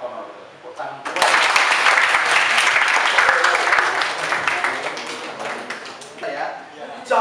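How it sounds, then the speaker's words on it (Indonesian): Loud applause from a class or audience at a lesson on Reog Ponorogo, a sudden burst of close, energetic clapping that swells, then fades, with voices around it. "Tepuk tangan kuat."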